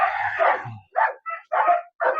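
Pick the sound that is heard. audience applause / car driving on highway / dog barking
dog barking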